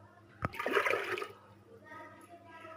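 Water is poured from a glass into a pressure cooker for beef chana dal gosht: a brief sloshing splash that fades into a light trickle, with a voice faintly in the background.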